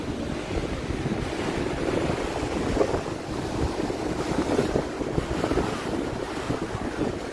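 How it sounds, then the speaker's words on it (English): Ocean waves lap at the Ko Olina lagoons on Oahu at night, a steady low surging wash of surf heard alone with some wind buffeting the microphone, no voices. "You hear those waves, that's all you hear."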